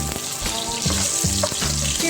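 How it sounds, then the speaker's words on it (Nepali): Soybean chunks frying in hot oil in a pan for veg biryani, a loud, dense, continuous sizzle heard up close with faint stirring clatter and no talk. "सोयाबिन फ्राई गर्नको लागि मैले त्यो राखिसकेको छु। म अब सोयाबिन राख्छु।"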